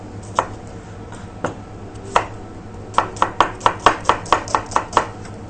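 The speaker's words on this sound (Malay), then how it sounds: "Bawang besar tu hampa potong" A knife chops an onion on a cutting board, a few scattered cuts followed by a quick steady run of about a dozen chops.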